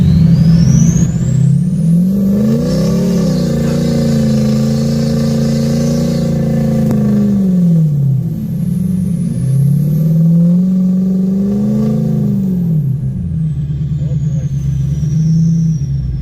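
A pickup truck's engine drones and revs in rising and falling waves as it slides down a snowy mountain trail in a blizzard, loud and close, with brief high whines above the rumble.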